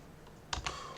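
Typing on a computer keyboard that has a faulty shift key, two quick close keystrokes clicking over a quiet background.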